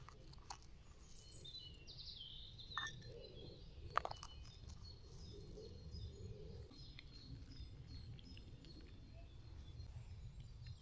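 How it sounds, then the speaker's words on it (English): Birds chirp at a wild campsite beside a tarp tent in the morning, scattered calls fairly faint and distant over a steady low rumble of background noise. "waking up in nature, hearing all the birds chirping."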